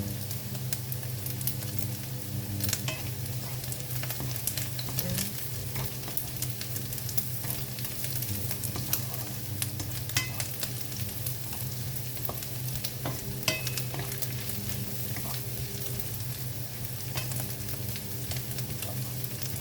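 Prawns sizzling steadily in a pan for a monggo dish with alukbati, an even close frying hiss under occasional light stirring clicks, with no talking.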